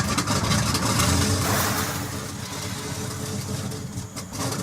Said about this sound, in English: they're starting the engine